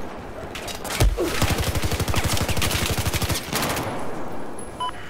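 Automatic gunfire in Battlefield 4, a sharp loud opening shot followed by a steady rhythmic stream of rounds for about two seconds, then scattered distant shots as the action continues.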